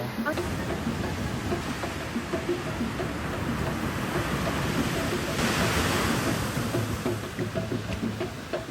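Surf washing onto a white-sand beach in Bicol, a continuous broad rush of waves with a swell in the middle, people talking over it.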